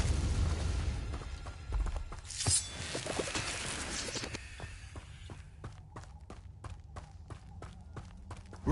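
A Confringo blasting spell goes off in Hogwarts Legacy, a loud booming burst up front that rumbles and decays, followed by scattered lighter thuds and a string of sharp rhythmic clicks.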